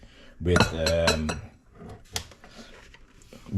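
A spatula folds blueberry muffin batter in a mixing bowl, giving a close burst of clinking scrapes against the bowl before settling into quieter, scattered taps.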